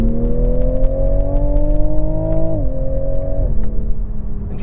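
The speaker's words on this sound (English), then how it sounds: "It makes a lovely sound. We get a lot of induction and exhaust noise coming" A 2022 Toyota A90 Supra's B58 engine pulls hard from inside the cabin, with loud induction and exhaust notes rising steadily, then dropping sharply at two quick gear changes, with no talk over it.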